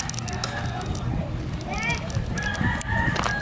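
A rooster crows at a cockfighting venue on Malapascua Island in the Philippines, its call rising over a busy background of crowd chatter and clamor, moderately close amid other fowl sounds.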